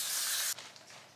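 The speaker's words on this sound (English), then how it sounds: "This is the aluminum free dry spray coconut hemp seed secret deodorant." A can of aluminum-free coconut hemp seed dry spray deodorant hisses in one steady burst for about half a second, then stops abruptly, leaving quiet room sound.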